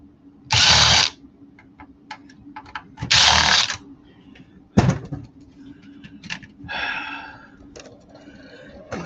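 A power drill backs screws out of a computer case outdoors on a snowy day, in several short whirring bursts separated by clicks and handling noises.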